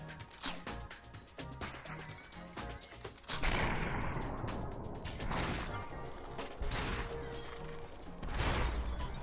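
Shotgun blasts in Superhot VR, a run of sharp, loud cracks with clattering impacts and crashes, some quick shots early, then heavier booming bursts spaced a second or two apart.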